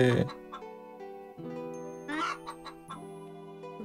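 Chickens clucking in the 1998 PS1 game Wild Arms, short synthesized clucks and squawks set against a sustained musical backing, with a burst of noisier fowl chatter in the middle.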